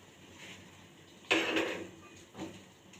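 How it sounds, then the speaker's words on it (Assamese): Hot oil poured onto flour for dough gives a short burst of sizzling hiss, then fades, with a second softer hiss shortly after. Nearby and moderately loud, in a quiet kitchen. "ইয়াতে মই এতিয়া গৰম তেল দি দিলোঁ।"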